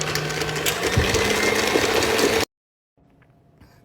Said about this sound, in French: Et là, hop, on va mixer une dernière fois.